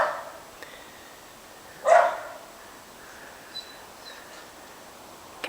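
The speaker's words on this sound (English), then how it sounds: "Why is that dog barking at you?" A dog gives one short, sharp bark at moderate distance, followed later by a faint, brief yip, against an otherwise quiet indoor background.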